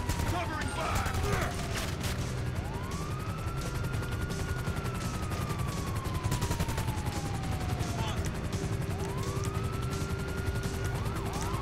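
Gunfire in Grand Theft Auto V, rapid bursts crackling continuously under wailing police sirens that rise and fall, with a voice briefly heard over the chaotic game mix.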